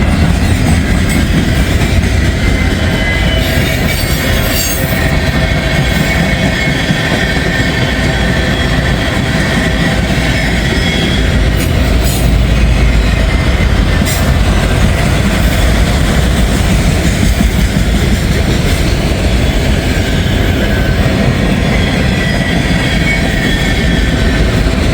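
A Conrail freight train, an older unit still wearing the N logo, rumbles steadily past outdoors, close and loud throughout with continuous rolling wheel noise and faint clatter, no voices.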